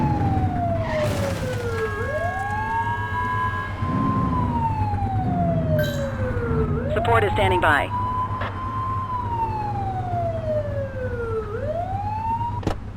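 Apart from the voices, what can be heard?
police car siren in a video game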